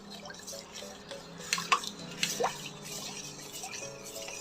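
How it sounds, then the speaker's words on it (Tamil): A spoon stirs mint and lemon juice with a glass of water, giving a few light clinks and soft liquid swishes close by, sparse and quiet with brief sharper taps in the middle. "இப்போ இதை நல்லா கலக்கி விட்டுக்கலாம்."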